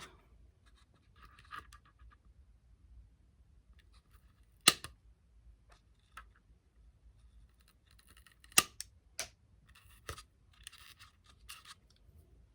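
Small sticks being snipped short for a teacup fake cake, a few sharp, isolated cutting clicks scattered across a quiet background, near and faint.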